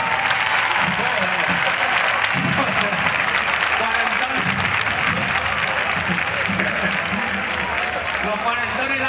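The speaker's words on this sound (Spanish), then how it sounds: "Por favor, que aplaude a la gente que tenga entre 40 y 50." Loud sustained audience applause at a stand-up comedy festival during town fiesta celebrations in Leganés, a thick wash of clapping with scattered cheers and crowd voices running underneath for the whole stretch.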